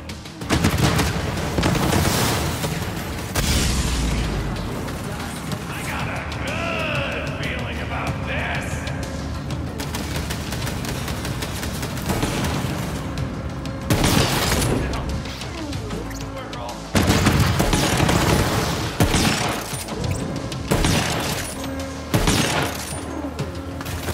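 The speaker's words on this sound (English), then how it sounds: "That is a turret." Rapid bursts of turret gunfire from the video game Borderlands 3 blast loudly alongside booms and explosions, heavy and repeated throughout the scene, with people talking over the din.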